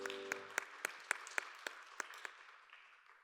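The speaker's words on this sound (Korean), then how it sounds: "서로를 격려하면서 박수하겠습니다." Church congregation at a Sunday young-adults worship service bursts into applause: a run of sharp, evenly spaced claps over a broad clapping wash, steady for about two seconds, then thinning and fading out.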